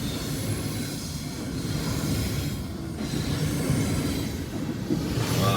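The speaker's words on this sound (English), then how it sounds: "That's a huge train." A large cargo train rolls past close by as a steady, loud, continuous rumble with low clattering, holding even throughout with no talking.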